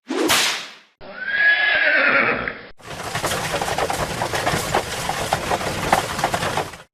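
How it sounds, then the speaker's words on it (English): A sharp whip crack is followed by a horse's drawn-out neigh. Then come several seconds of dense, clattering bursts that sound like horses and a wagon in a chaotic rush. "he began whipping his horses like crazy."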